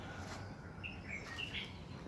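Birds in a wetland give a few short, thin chirps and calls over a soft outdoor background, fairly faint and distant, without speech.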